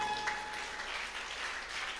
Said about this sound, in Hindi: अब के ताली ज्यादा जोर से बज गई है।